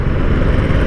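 A KTM Duke 390 motorcycle fitted with a barrel exhaust, a close, loud, continuous low engine rumble with a rough burbling texture throughout.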